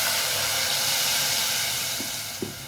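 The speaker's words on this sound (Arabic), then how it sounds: "هنهدي بقى النار شويه ونبدا نجيب كوبايه ميه، نحط له" Water hits a hot pan of golden-browned basmati rice and sends up a loud, close, continuous hiss of sizzling steam that eases off slightly toward the end, with a couple of small knocks.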